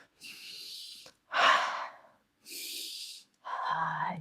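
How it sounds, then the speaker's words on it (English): Deliberate breaths alternate in and out: four distinct, close breaths with pauses between them, the inhales airy and hissing and the exhales breathier and rougher, with no speech. "You breathe in, you breathe out."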